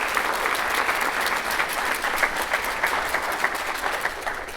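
Sustained audience applause at a school district State of the District address, thick even clapping from a large crowd throughout, moderately loud with no speech on top.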